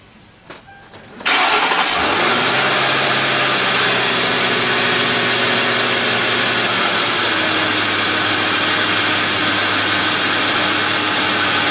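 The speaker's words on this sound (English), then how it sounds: "Car runs well. That was a cold start, by the way." A car engine cold-starts after a brief crank, then settles into a loud, steady idle that continues close to the microphone with a constant hum and no talking.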